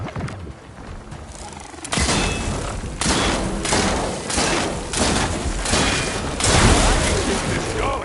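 Plasma weapon fire in the video game Horizon Forbidden West: a quiet opening gives way to a loud series of heavy, booming shots repeating roughly every second, with a voice heard faintly beneath.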